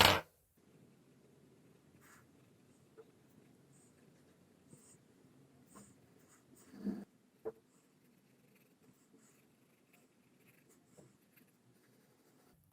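Fountain pen with a Visconti Divina M nib filled with Graf von Faber-Castell ink writing on paper, a faint soft scratching with brief strokes and pauses, heard close and alone in a quiet room.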